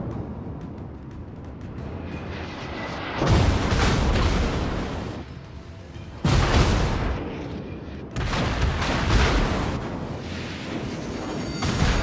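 Naval guns fire aboard a warship in World of Warships, with heavy booming salvos that come in three loud, sustained stretches separated by quieter rumbling lulls.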